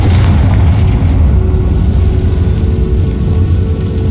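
A Confringo blasting spell explodes in the Hogwarts Legacy video game, a loud, sustained booming roar with heavy low rumble that fills the whole stretch, no talk over it.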